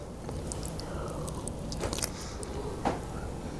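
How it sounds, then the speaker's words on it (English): Barbecue ribs seasoned with Frank's Red Hot rub, cooked on a Pit Barrel Cooker, bitten into up close, with a few soft crunchy bites and wet chewing over a steady low background hiss and no talking. "Another clean bite"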